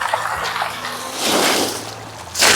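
Feet splash and swish in water beside a boat, close sloshing with a louder burst of splashing near the end, no talk.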